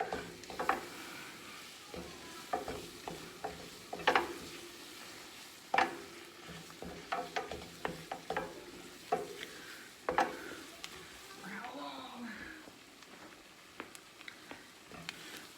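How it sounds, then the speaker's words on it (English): Pot pie filling is stirred in a pan on the stove, with a spoon scraping and tapping repeatedly over a low, constant sizzle. "Stirring constantly until mixture is bubbly"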